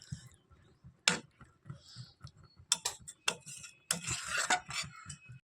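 A pot of chicken curry with flat beans is stirred, giving quiet, irregular metallic clinks and scrapes of a spoon on the rim and base, with a soft bubbling hiss near the end.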